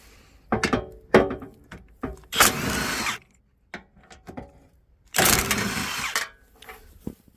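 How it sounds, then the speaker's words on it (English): A socket ratchet removes 13mm bolts on a Volvo XC60 during a towbar installation, sounding in several short clicking bursts and two longer fast-ratcheting runs, close and loud with pauses between them. "Let's get those bolts out."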